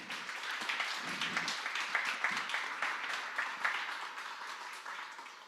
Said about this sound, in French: On peut applaudir Jésus pour ce qu'il fait trop bien.